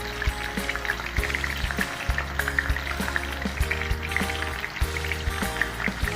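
Sliced sweet potato frying in hot oil over medium heat, a steady close crackle and sizzle with scattered pops throughout, no talking.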